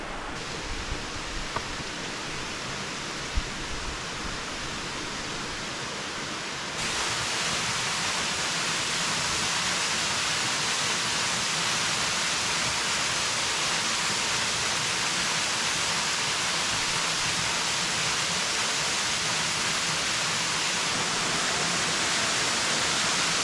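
Ayahiro Waterfall on Mount Mitake roars as a steady, dense wash of falling water, loud and close, growing fuller after the opening seconds, with no voices.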